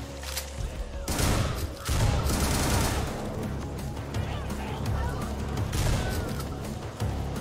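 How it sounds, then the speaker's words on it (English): Enemy gunfire rattles in a video game shooter as dense, continuous volleys of loud overlapping shots and bursts, with the sound sustained across the whole stretch and no talking. "Look at that, they're shooting at me."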